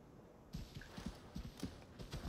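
Horse hooves clip-clop on a path in the video game Assassin's Creed Valhalla, a quick, steady rhythm, fairly faint, beginning after a short quiet moment.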